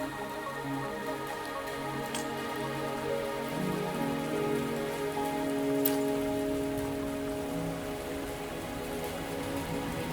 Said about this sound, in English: Are you trapped here by the rain?